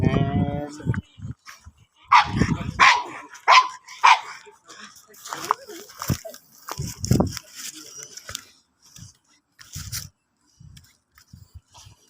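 Puppy barking in short, sharp yips and barks scattered across the stretch, close and fairly loud, with a person talking to it in between.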